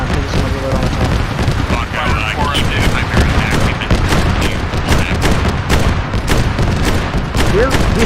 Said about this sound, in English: We're shooting them right now. With missiles or automated fire? Both.